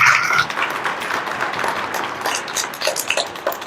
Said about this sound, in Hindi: तो प्रभु को जोर से ताली तो बजाओ यार